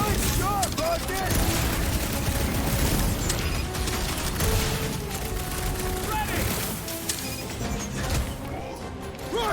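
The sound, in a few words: gunfire in Guardians of the Galaxy video game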